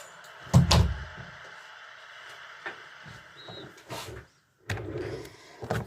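A door being closed with a heavy thud, then scattered softer knocks and clunks with short pauses between them, heard indoors at close range.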